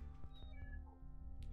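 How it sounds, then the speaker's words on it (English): A cat meows loudly right beside the microphone, a few drawn-out cries in close succession over steady background game music. "So my cat just jumped right up next to me and decided to start meowing loudly."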